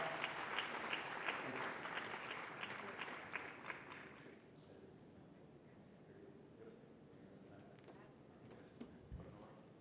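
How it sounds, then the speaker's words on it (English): An audience at a partners' network meeting gives a loud, dense round of applause that fades after a few seconds into a quieter room, where a voice speaks. "Let's give them another big round of applause for welcoming Oaxaca."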